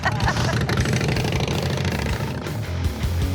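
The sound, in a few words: motorcycle engine idling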